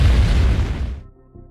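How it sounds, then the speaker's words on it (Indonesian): A massive explosion in a zombie film, a loud, deep booming blast with a rumbling tail that decays over about a second, then fades to a quiet low hum. "tiba-tiba terjadi sebuah ledakan dahsyat yang mengguncang kota"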